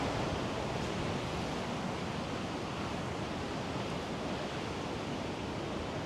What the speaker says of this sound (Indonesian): Ombaknya besar banget